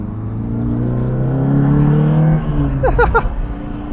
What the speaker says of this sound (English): The exhaust sounds immense.